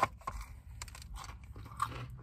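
Crispy potato being bitten and chewed up close, with crunchy broadband bursts at an irregular rhythm over about two seconds and no talking.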